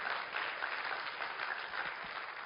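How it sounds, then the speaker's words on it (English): An audience claps steadily at an event, a continuous dense patter of applause from a crowd that holds at an even level throughout, with no talking over it. "Give him a big round of applause for his hard work."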